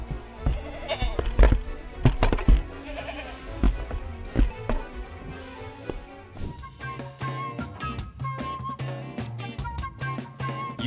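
A goat caught on a CCTV camera bleats several times in close, loud calls over a busy background of music and clatter.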